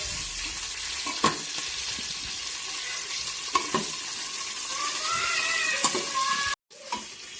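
Green chillies sauté for khichdi in a pan, a continuous sizzle under repeated scraping stirs with sharp clicks of the spoon against metal, and a brief break near the end.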